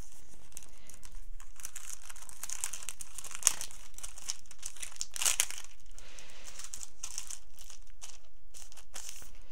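Paper wrapping around Christmas items crinkles and rustles continuously while being unpacked, soft close-up crumpling with a couple of sharper crackles, no voices.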